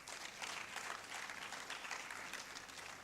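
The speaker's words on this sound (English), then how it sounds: "Please let's give them a round of applause." An audience at a book launch claps steadily throughout, a dense, even patter of applause at moderate distance.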